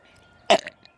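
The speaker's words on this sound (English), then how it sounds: "So every time we burp, you lift up your head." A person lets out one short, abrupt burp that is close and loud, followed by a brief throaty trailing sound in an otherwise quiet room.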